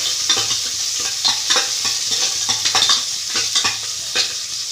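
Chopped onion frying in a pan for a fresh black-eyed pea sambar, a strong sizzle under repeated rhythmic stirring scrapes, close and loud with no talking.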